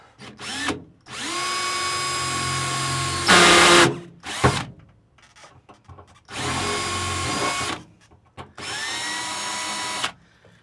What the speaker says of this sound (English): And now we're going to drill a little pilot hole.